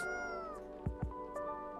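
A cat meows in the video game Coffee Talk, one drawn-out plaintive meow followed by a couple of short soft sounds, close and alone over a quiet background.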